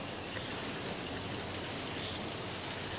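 Steady, dense hiss of rain falling as a sound effect in an old Western radio drama, even and unbroken with no voices.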